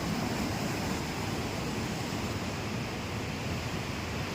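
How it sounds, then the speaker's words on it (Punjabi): Fast-flowing floodwater rushes past flooded village land, a steady, dense roaring wash that stays constant throughout without voices. "ਤੁਸੀਂ ਦੇਖੋ ਵੀ ਪਾਣੀ ਦੀ ਕਿੰਨੀ ਸਪੀਡ ਆ"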